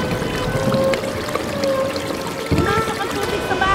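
Heavy rushing, pouring water like a downpour in a dramatized Tagalog telling of Noah's flood, loud and continuous with a low rumble, with voices mixed in.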